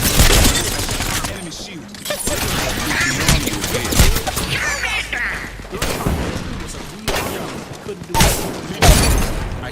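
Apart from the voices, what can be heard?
gunfire from a video game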